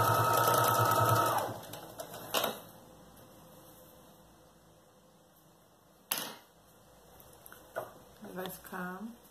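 Sewing machine stitching to hold elastic on a child's backpack, a short rapid burst of needle clatter at the start, then quiet handling clicks, with someone speaking softly near the end.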